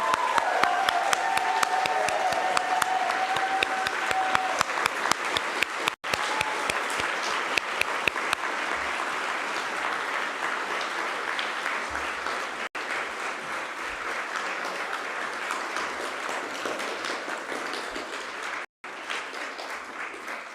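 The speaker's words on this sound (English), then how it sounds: "let's give a huge round of applause" Audience applause at a service fills the room, a dense, steady clapping from a crowd that continues for about twenty seconds with no voices over it.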